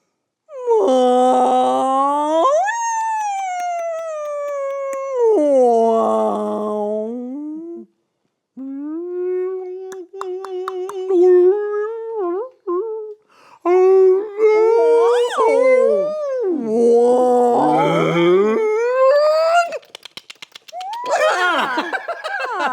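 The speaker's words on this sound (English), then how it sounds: "it sounds like one of the ways certain species of whales talk" Recorded whale vocalisations: long, sliding tonal moans and wails rising and falling in pitch, with a few short chirping bursts, loud and continuous with brief pauses, no talking over them.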